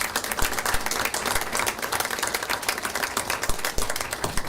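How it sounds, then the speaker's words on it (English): Audience applause fills a township meeting room, dense and steady clapping from many people that lasts throughout at moderate loudness. "if we could maybe have like a round of applause for Mrs. Seward"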